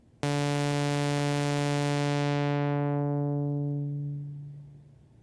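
A single sustained bright, buzzy Moog analog synthesizer tone whose upper harmonics steadily close down in a resonant filter sweep, leaving a darker hum that fades out.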